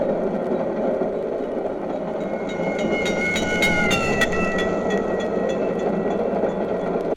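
A train passing with its whistle, used to demonstrate the Doppler effect: a continuous rumble of rail cars with a bright whistle tone rising in the middle and fading, moderately loud and steady.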